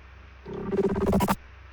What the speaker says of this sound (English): And again, there's another glitch effect here.